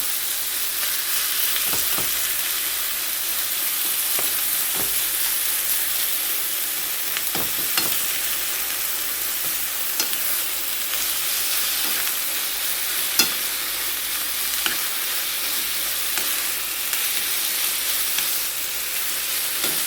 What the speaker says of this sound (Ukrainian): спочатку підсмажу фарш